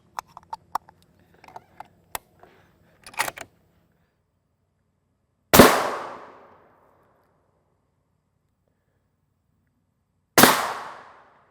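Two sharp, loud rifle shots from a .300 Winchester Magnum firing incendiary rounds at a Level IV armor plate, each a sudden crack with a decaying ring, several seconds apart after scattered small clicks and handling noises.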